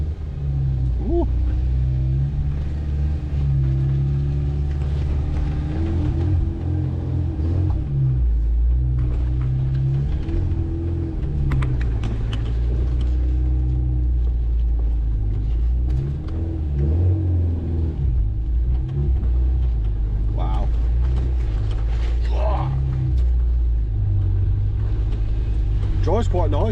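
A Ford Sierra RS Cosworth, a barn find left standing for over 17 years, rumbles steadily while being driven, its engine note droning loud and continuous from inside the car, with brief revs and faint cabin noises.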